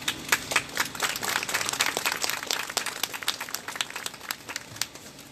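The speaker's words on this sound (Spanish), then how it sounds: "Aplausos para la compañera" Scattered hand claps from a small audience at a political conference on persecution, a sparse, uneven patter of individual claps rather than a full ovation, moderately faint in the room.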